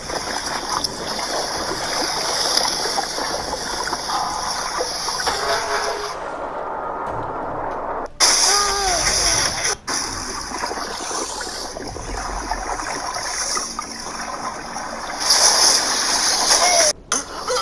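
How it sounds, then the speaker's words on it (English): Water rushes in and floods a room, a loud, continuous roaring torrent with splashing and surging turbulence that swells at moments, voices heard over it now and then. "This room is about to be filled to the brim with water."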